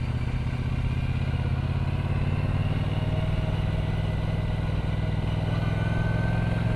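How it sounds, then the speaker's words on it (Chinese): A Brixton Cromwell 1200 X motorcycle ridden gently at an everyday pace, its engine a steady, continuous drone heard close up from the rider's position, with wind rush and no talking. "我们来简单的这种日常的骑法来稍微骑一下这个车啊"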